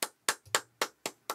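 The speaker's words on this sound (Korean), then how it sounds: "박수를 보내고 시작하고 싶어요" One person claps six times at an even, steady pace, each clap sharp, close and distinct with silence between.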